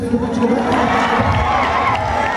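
An audience at a mimicry comedy show claps and cheers, a loud, dense roar of voices and hands that runs unbroken for a couple of seconds.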